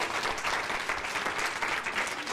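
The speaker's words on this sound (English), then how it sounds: "Let's give a nice round of applause." An audience at a Las Vegas Market seminar applauds steadily, a dense, even wash of clapping that holds for a couple of seconds with no pauses.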